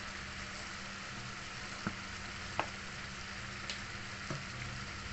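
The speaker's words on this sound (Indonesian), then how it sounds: "saya aduk dulu ya biar tercampur" Sweet and sour chicken sauce with chili sauce and sweet soy sauce being stirred in a pan, a quiet steady sizzle broken by a few faint scrapes and clicks of the spoon.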